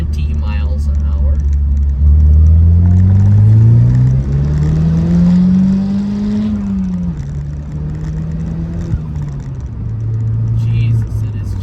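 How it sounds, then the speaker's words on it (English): A tuned Pontiac Solstice with a Stage 1 turbo tune pulls hard in second gear from about 20 mph, its engine note rising loudly and steadily before easing off, heard from inside the car. "So here we go, slowing down, second gear at 20 miles an hour."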